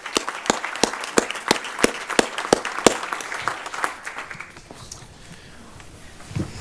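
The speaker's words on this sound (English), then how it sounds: "hey, another round of applause for them." Applause at a school district board meeting: a few sharp, evenly spaced rhythmic claps lead into scattered clapping from the room that gradually thins and fades.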